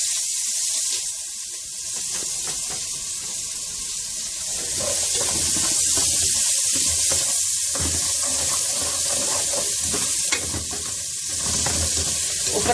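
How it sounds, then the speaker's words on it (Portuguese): Chopped onion sizzles in a pan of fat left from searing meat, a steady hissing fry with occasional stirring clatter, close and continuous throughout with no talking. "Nessa mesma gordura, a gente vai selar os legumes para aproveitar esse sabor da carne que tá ali no fundo"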